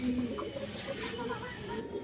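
Pigeons cooing softly at a racing-pigeon loft, low murmuring coos under steady background noise, close but faint.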